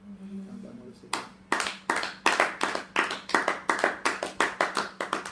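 A church congregation claps together in a steady rhythmic beat, starting after a brief pause and continuing as a series of sharp, evenly spaced bursts of many hands, with a low hum underneath.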